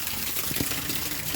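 A heavy downpour in Chhara village at dawn floods the fields, a dense, constant rushing hiss of water heard close and alone in a short burst.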